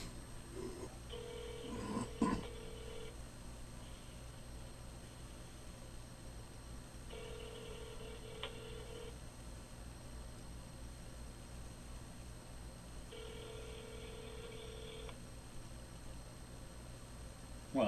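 A phone call to a listener rings out as three evenly spaced ringback tones, each about two seconds long, heard faintly over steady line hiss and hum, with a few brief dialing clicks near the start.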